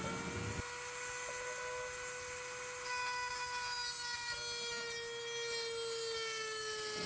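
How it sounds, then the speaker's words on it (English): Dremel rotary tool drilling out a screw inside a cramped truck engine bay, a steady high-pitched whine with bright harmonic overtones running continuously, close and loud, its pitch shifting slightly as load changes partway through. "I can't fit a full-size drill in the engine here to drill out this screw, so I had to use a Dremel."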